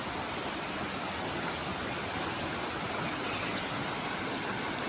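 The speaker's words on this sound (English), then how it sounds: "It's nice to hear the waterfall." Steady broadband rush of a waterfall and running stream at Namkat Yorla Pa Resort in Oudomxay, Laos, a continuous even wash of water with no voices.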